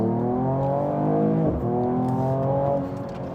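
A 2023 Mercedes-AMG CLS53 engine revs hard and steadily, its exhaust note climbing in pitch with a brief dip midway, loud and close with no talking.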